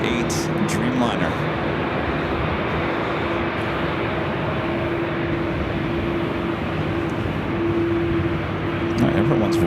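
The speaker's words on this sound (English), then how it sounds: "This might be the loudest Dreamliner I think I've ever heard." Aeromexico Boeing 787-8 Dreamliner jet departing Los Angeles International Airport: a steady, loud, broadband engine roar with a sustained tonal hum, continuous throughout.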